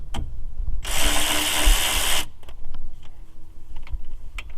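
A power tool loosens the 15mm brake caliper bridge bolts on a 2001 Buick Regal in one loud, steady whirring burst of about a second and a half, followed by a few light metallic clicks and clanks.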